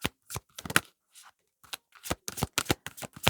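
Tarot cards shuffled by hand and laid on a table, a run of crisp riffling bursts and flicks in uneven clusters, close and fairly loud with no talk.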